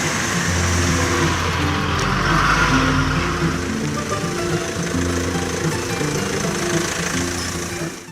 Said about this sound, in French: À l'aube du 31 décembre 2022, un convoi de camions pénètre sur le terrain.